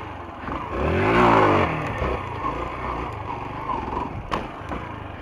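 Yamaha XTZ 125 motorcycle engine revving and rising in pitch during a side wheelie, loud and close, then settling into a steady running drone with some scraping noise, no talking.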